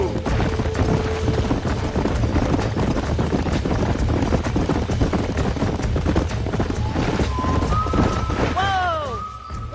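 Horses gallop with a steady drumming of hooves in the Red Dead Redemption video game, loud and dense, and a high whinny breaks out near the end.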